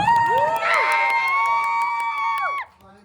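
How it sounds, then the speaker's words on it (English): A crowd at an interview event in London cheers and whoops with rising shouts over some clapping, loud and close, then cuts off abruptly near the end. "Big round of applause for Poland"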